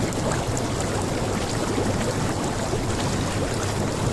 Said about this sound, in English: Enjoy the bubbles with me.